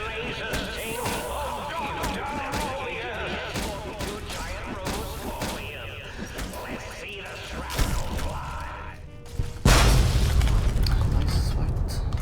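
A heavy boom of an enemy death explosion in Fallout: New Vegas erupts late, following dense clattering gunfire and mechanical combat effects, with a voice talking over the action.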